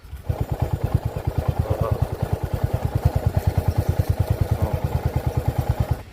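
Small-size Hunter motorcycle engine running at a steady idle, a close, fast, even chugging pulse that holds for the whole stretch.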